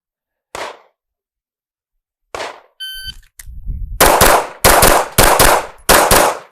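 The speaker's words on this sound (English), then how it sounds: "this should be about as fast as we can pull the trigger" Several rapid handgun shots ring out in quick succession during a practical shooting drill, loud and close, with a few sharp single reports and a metallic clink before the fast string of shots.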